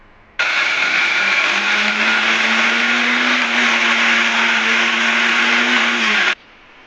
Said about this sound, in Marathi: या डाळीला आता आपल्याला मिक्सरमधून जाडसर वाटून घ्यायचं आहे.